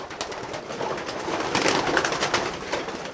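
Racing pigeons coo softly in a loft nearby, several overlapping throaty calls with light fluttering and shuffling around them.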